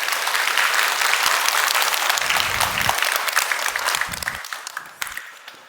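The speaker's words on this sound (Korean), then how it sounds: "박수 한번 해주시면 고맙겠습니다" A church congregation at a Sunday worship service claps together in a full, dense round of applause that gradually tapers off into scattered claps toward the end.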